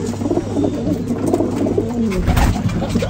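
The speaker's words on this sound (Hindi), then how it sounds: "ये प्रिंस कबूतर है" Pigeon cooing up close in a Lahore pigeon loft, soft repeated low throaty coos over a faint background hum.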